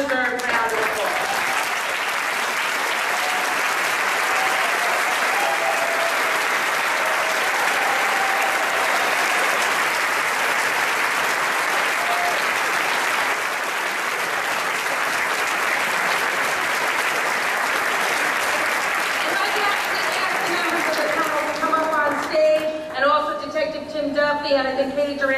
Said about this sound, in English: please stand and get a well-deserved round of applause